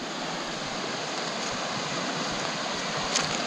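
A stream flowing beside a mountain road near Zonguldak on a cycling route to Devrek gives a steady, broad rushing wash that carries evenly from start to finish, with no voices.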